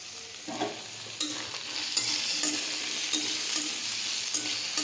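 Potatoes sizzle in a hot pan while being stirred, a steady close frying hiss broken by repeated scraping strokes of the spoon against the pan.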